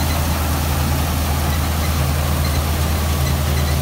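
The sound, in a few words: John Deere 5210 tractor running with chopper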